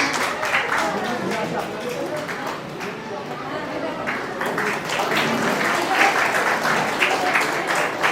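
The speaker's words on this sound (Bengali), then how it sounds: "জোরে হাততালি হয়ে যায়।" Loud, sustained applause from an audience at a scholarship award ceremony in the Sundarbans, steady clapping filling the whole stretch with a faint murmur of voices underneath.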